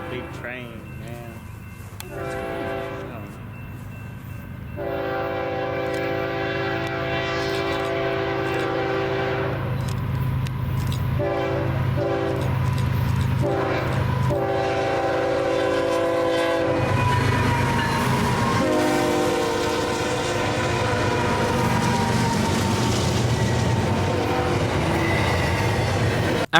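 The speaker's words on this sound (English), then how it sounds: "Yo, that's a big train, man." A big freight train rolls past at close range, horn blaring in long blasts over a steady rumble and clatter of wheels on track.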